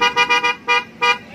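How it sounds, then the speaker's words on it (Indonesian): Aftermarket horn fitted to a Yamaha NMAX scooter, a loud, close, buzzy tone sounded in several short honks, a quick triple blast followed by two separate beeps, with no talk. "Klaksonnya."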